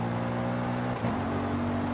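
A car engine in Forza Horizon 5 holds high revs close up as a steady, loud drone, with a brief dip partway through like a quick gear change.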